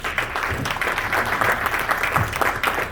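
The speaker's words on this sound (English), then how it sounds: "Give Phil a round of applause, please." Steady applause from a crowd, dense and continuous throughout, with no talking over it.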